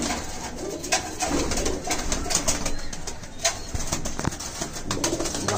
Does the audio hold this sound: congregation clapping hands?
no